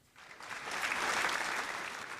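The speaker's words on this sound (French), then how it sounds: "je te fais un petit applaudissement" A small burst of applause builds quickly and holds as a soft, steady patter of clapping, fairly faint and with no talking.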